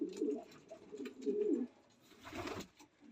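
A 2022 racing pigeon hen coos nearby in low, throaty rolling phrases, two drawn-out coos followed by a shorter one, with a faint rustle in between.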